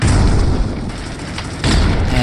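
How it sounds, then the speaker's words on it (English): Grenade blast in the Critical Ops mobile shooter during a league semifinal match, a loud dense boom with rumbling low end that fills the clip, swelling again near the end amid in-game fire. "And another nade comes through."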